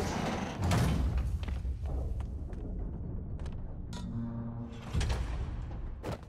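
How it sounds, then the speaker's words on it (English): A trap door opens in Marvel's Spider-Man with heavy thuds and scraping, a loud clunk at first and then dragging, creaking movement and a final knock. "You were right, Jeff. Trap door."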